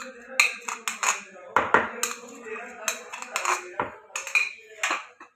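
A spoon clinks and scrapes in a bowl as whisked yogurt is mixed into beef, irregular sharp metallic taps and knocks with quiet gaps between them.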